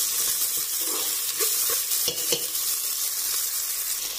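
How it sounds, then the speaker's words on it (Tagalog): Garlic and onion sizzle steadily in hot oil in a pan, with occasional stirring scrapes over a constant close frying hiss. "Gisa-gisa na rin po tayo ng bawang at sibuyas."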